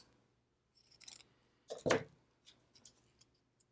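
Scissors snip the edge off a paper flower sticker, a couple of quiet close snips with the main cut standing out as one sharp crisp slice, then small rustles.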